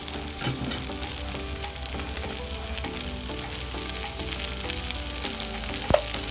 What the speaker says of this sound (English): I added my seasoning and the sauce mix, the Worcestershire sauce kind of thing, and I just stirred that through